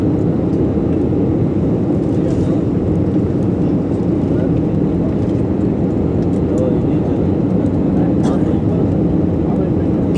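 PIA airliner flight PK 234 landing at Islamabad airport, heard from inside the cabin as a loud, steady low engine and airflow roar throughout.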